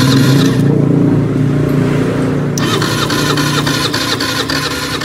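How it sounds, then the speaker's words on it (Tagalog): A fuel-injected Rusi motorcycle with a check-engine fault is cranked in an attempt to start it. A loud, close, steady mechanical whirring and droning runs continuously, shifting in character partway through, without the engine catching or anyone speaking. "Subukan natin siya pa-andarin kung a-andar siya."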